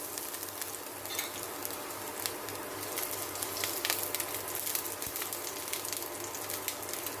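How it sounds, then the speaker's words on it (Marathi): Chopped garlic fries in a spoonful of hot oil, giving a soft, even sizzle with light crackles, fairly quiet and steady throughout over a faint low hum. "तेल गरम झालंय एक चमचा चिरलेला लसूण"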